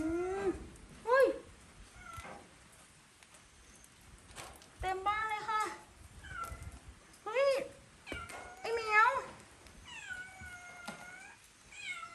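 Several cats meowing inside an abandoned house, a series of loud, close, drawn-out meows and wails with short pauses between them. A person's voice can be heard between the calls.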